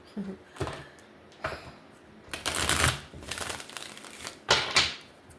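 Tarot cards being shuffled in several crisp, riffling bursts separated by brief pauses, close and fairly loud, with no talking.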